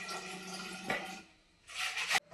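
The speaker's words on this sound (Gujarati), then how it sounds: "મમ્મી હવે બાટલો ભરે છે." Tap water running into a bottle being filled at home, a steady splashing rush with a brief gap before the flow resumes louder and stops abruptly.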